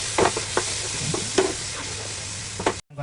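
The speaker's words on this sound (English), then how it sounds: "This is sizzling because the tomato contains a lot of water and its water sizzles when it touches oil." Tomato puree hits hot oil with garlic in a pan and sizzles steadily up close, broken by a few sharp spatters and stirring scrapes before cutting off abruptly.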